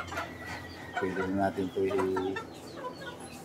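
Four-month-old cockerels cluck and make short crowing calls close by in several bursts, with someone speaking among them.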